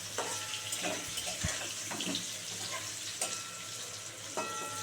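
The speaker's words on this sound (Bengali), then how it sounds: "আলুগুলো একদম সুন্দর করে গ্যাস কমিয়ে কমিয়ে লাল করে ভেজে নিয়েছি" Potatoes for Bengali aloo dum fry in a pan over low gas, giving a steady crackling sizzle with small pops and scattered clinks.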